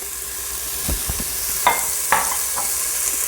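A finely chopped medium onion fries in oil and butter, a low steady sizzle broken by a few sharp scraping and stirring clicks close by.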